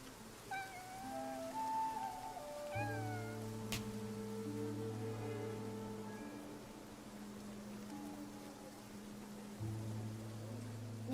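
Cat meowing in the video game Infinity Nikki, several short rising meows over soft rain and low background tones, fairly faint with no talking.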